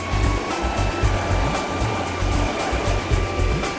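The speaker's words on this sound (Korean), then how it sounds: "파도 봐봐, 파도. 파도 여기까지 와." Sea waves break and wash on the shore at Sampo beach, a continuous rushing hiss with low rumbling surges, loud and close, with no voices.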